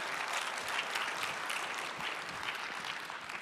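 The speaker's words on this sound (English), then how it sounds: "Hand of applause." Audience applause at a startup pitch day event, steady clapping from a crowd sustained throughout, fairly faint and at a distance.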